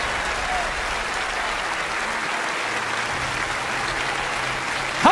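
A church congregation applauds during a Spanish-language sermon, a broad, even wash of clapping held steady at moderate volume, ending with a brief louder burst.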